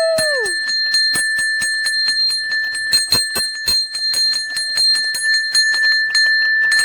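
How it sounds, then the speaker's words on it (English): A bell is struck over and over in quick, uneven strokes, each ring leaving a bright, sustained tone that overlaps the next, loud and close. "I want to go on the bell."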